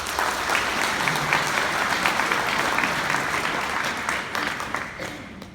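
Audience at a Filipino church retreat applauding loudly, a dense, steady wash of many hands clapping at once that carries on for several seconds before tapering slightly at the end.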